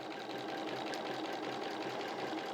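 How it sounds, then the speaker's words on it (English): A sewing machine stitches quilt fabric, a steady close whirring hum that runs without a break and with no voices over it. "we're just going to sew on any line that we want to sew on."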